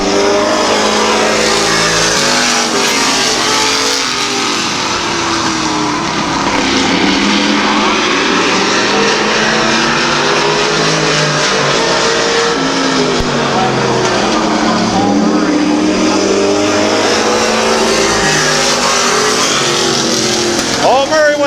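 Race cars roar around Midvale Speedway in a 2005 race, a steady loud engine drone sweeping past continuously with a commentator's voice over it.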